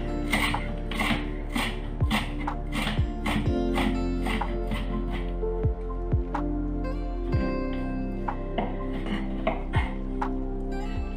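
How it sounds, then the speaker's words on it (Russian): Knife chopping dill leaves on a cutting board, a steady series of crisp taps in quick rhythm, close by, with faint kitchen clatter. "Не сильно мелко нарезаю."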